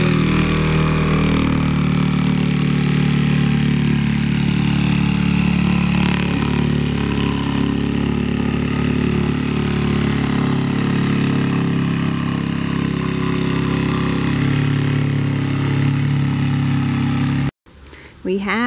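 A loud, steady power saw drones on and on while cutting plywood for a yurt platform, with a low mechanical roar that cuts off abruptly near the end.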